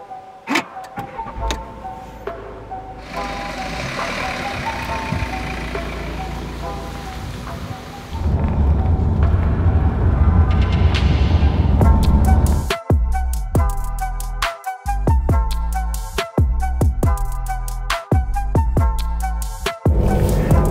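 A 2024 Citroën Holidays camper van starting off on the road, a quiet cabin hum with clicks giving way to louder rolling engine and road noise, with sharp knocks and bumps later.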